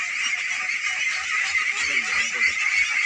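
A flock of ducks on a village pond farm in Bangladesh gives a dense, continuous chorus of nasal honking calls, with faint low thumps beneath.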